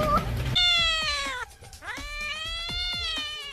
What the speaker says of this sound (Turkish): bir dakika dur, miyavlıyor.